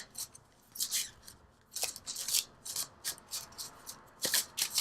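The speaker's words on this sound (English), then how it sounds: "let's pull from the Enchanted Map Oracle cards just to bring it together" Oracle cards of the Enchanted Map deck are shuffled by hand in a close, quiet tarot setting, giving repeated bursts of crisp papery riffling and flapping in an uneven rhythm, with short pauses between bursts and no talking.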